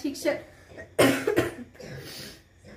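A child coughs a few times in short, sharp bursts, with some soft vocal sounds around the coughs.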